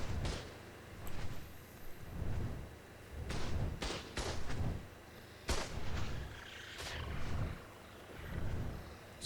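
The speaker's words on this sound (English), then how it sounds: "I was hoping it was just going to target and fire. Oh, it is." Heavy booming shots come from a turret platform in ARK: Survival Evolved, several spaced thuds and blasts in an uneven rhythm, each with a deep roaring tail, fairly loud and with no speech.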